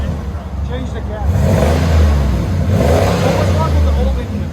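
A 1998 Chevy Suburban with a 5.7L V8, X-pipe and Borla Pro-XS exhaust revs in two swelling pulls, its deep rumbling tone loud and close, with voices talking over the engine.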